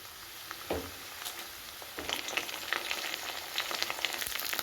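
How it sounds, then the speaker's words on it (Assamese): Onion, bay leaf and ginger paste frying in a pan over a low gas flame, a steady close crackling sizzle with a few soft stirring knocks, no talk. "গেছৰ ফ্লেমটো ল'ত ৰাখি আকৌ 1 মিনিটৰ বাবে মই ভাজি ল'ম।"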